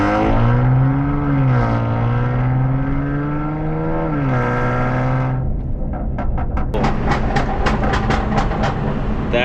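Straight-piped Kia Stinger exhaust roaring loud and close, with a long rising and falling drone that turns into sharp, rapid crackling pops near the end.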